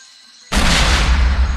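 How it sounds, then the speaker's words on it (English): A ship's cannon fires in the pirate adventure game Monkey Island 2: LeChuck's Revenge, one sudden loud boom after a brief near-silence, followed by a dense, roaring rumble that sustains to the end with no talking. "I'd better fire the cannon."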